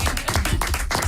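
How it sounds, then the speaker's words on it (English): An audience claps in a steady burst of applause, dense and close, with no voices over it. "Everyone's getting claps."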